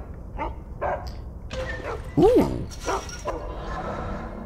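Dogs in the video game Geist give several short barks and yips, then one loud, whining howl in the middle, with a brief exclamation from a player.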